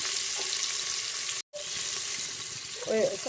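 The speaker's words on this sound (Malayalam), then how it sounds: "അപ്പം നമുക്ക് ഇതിലേക്ക് ഒരു സവാള ഇട്ട് കൊടുക്കാം." Steady close sizzle of sliced onion dropped into hot coconut oil in a pan, frying continuously with a brief dropout and a small stirring clatter near the end.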